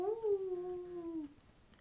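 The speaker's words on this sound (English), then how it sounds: "He's sitting alone with his nose pointed up in the air, and he's howling like a wolf." A dog gives a single long, wavering howl like a wolf, with a bright tone and overtones that hold steady before trailing off after about a second, fairly close and alone with no talk.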